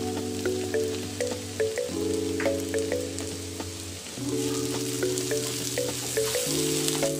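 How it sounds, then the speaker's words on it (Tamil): Onions fry in a pan for egg podimas, a continuous bubbling sizzle close by with a sustained humming tone in the background, no speech. "இப்போ வெங்காயம் ஓரளவு வெந்து வந்துருச்சு."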